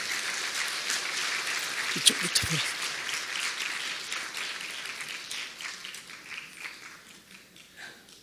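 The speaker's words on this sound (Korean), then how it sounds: "힘찬 박수로 맞아주시기 부탁드립니다" Congregation applauding in a church service to welcome a wedding couple, a dense broad wash of clapping that fades gradually over several seconds while someone speaks briefly over it.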